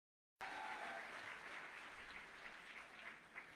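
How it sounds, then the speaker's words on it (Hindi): An audience at a direct-selling summit breaks into loud, sustained applause that starts abruptly and continues steadily through the moment. "इनके लिए जोरदार ताली बजा दीजिए एक बार सर"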